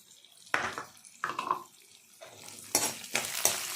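Urad dal and cumin seeds fry in a pan while a spoon stirs them. Several separate scraping bursts sound close by over a low, steady sizzle.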